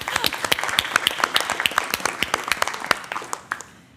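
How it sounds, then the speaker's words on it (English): A meeting audience at a library association plenary breaks into applause, a dense patter of many hands clapping at close range that tapers off near the end. "I think we should definitely applaud that."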